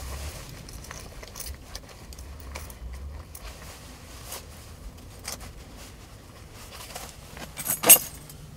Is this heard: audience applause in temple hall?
no